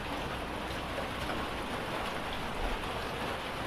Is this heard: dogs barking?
no